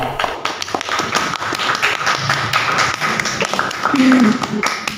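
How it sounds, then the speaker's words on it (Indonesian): A crowd claps in scattered, uneven applause that swells slightly toward the end, with voices talking underneath. "Tepuk tangan dulu dong."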